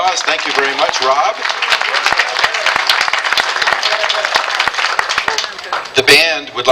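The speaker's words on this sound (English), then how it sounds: "let's give him a round of applause" An audience at a community band's summer concert gives a warm round of applause, dense, close clapping running steadily throughout, with a voice speaking briefly over it near the end.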